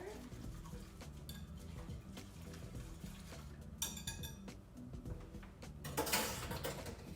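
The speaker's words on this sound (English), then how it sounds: "So I'm just gonna whisk this together" A whisk works a Korean L.A. galbi marinade in a bowl, with quiet scraping and clinking strokes of metal against the bowl and a few louder rattles near the end, heard faintly.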